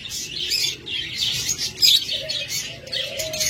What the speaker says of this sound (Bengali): এরপর এখানে সাধারণ চমৎকার একটা ককাটেল জোড়া রয়েছে